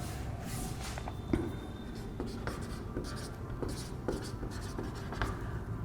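Pen or chalk writing out a theorem in a class 11 maths lesson on limits: continuous scratchy strokes with small taps, close and fairly quiet, without talk.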